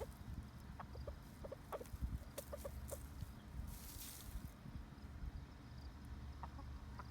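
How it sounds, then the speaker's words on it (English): Chickens and a rooster feeding on bugs in a garden cluck softly and sporadically outdoors, scattered short calls over a low background hum. "Look at these chickens and rooster taking advantage of all these bugs."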